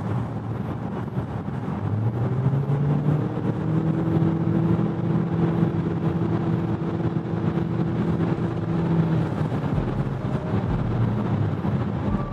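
A 2025 BYD Seal U DM-i 1.5 hybrid SUV accelerating from 100 to 140 km/h on a depleted battery, a steady engine drone with rising tonal whine under constant road and wind noise, heard from inside the cabin.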